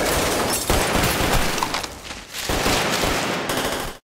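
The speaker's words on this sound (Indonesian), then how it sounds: "aksi saling tembak pun terjadi" Rapid bursts of gunfire ring out during a mafia shootout in a TV action series, with dense, loud, overlapping shots continuing almost without a break and a short lull midway.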